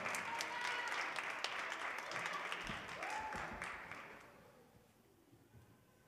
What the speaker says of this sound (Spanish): Un fuerte aplauso entonces a las alumnas que ustedes eligieron como mejor compañera